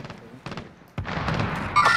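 Gunfire in Call of Duty: Warzone: a few sharp shots, then a heavier burst of firing and a louder blast near the end, close and punchy with brief gaps of quiet.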